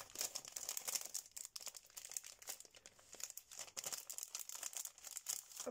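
Crinkly plastic packaging holding word stamps is opened by hand, with steady close crackling and rustling throughout, loud and near, with no talking.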